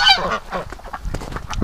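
Geese taking snow baths in winter, giving a loud nearby honk followed by several shorter, fainter honks and calls.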